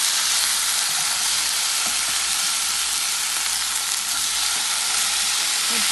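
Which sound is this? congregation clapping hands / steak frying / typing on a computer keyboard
steak frying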